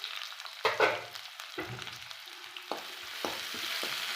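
Sliced onion and green chilli frying in a pan, a steady close sizzle punctuated by several sharp scrapes and knocks of a spatula stirring the mix.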